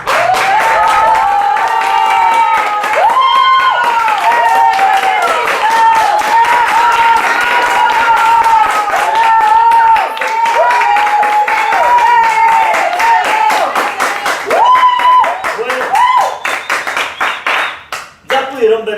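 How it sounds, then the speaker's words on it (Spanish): An audience at a storytelling event claps for a young storyteller, with a strong burst of applause under and between a voice speaking over a microphone. "Un fuerte aplauso para él."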